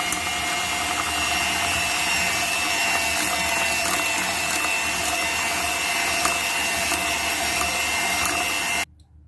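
A steady, loud electric mixer whirs continuously as it beats eggs and granulated sugar for tapai cheese cupcake batter, then cuts off abruptly at the very end.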